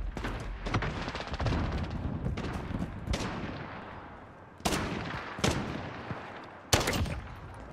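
Rapid gunfire in a Call of Duty Modern Warfare gun game match, with continuous bursts of shots and several louder, sharper reports standing out over the din of battle.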